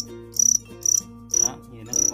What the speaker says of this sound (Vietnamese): Đó, con dế này mình mới bắt nè.